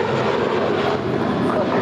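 A JetBlue Airbus A321 departing Los Angeles for Newark gives a loud, continuous engine roar, with a voice talking over it.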